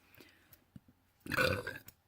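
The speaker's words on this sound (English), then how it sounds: "Excuse me, I burped." A single loud, close burp lasting about half a second, breaking a quiet stretch during a makeup session, preceded by a few faint clicks and small handling sounds.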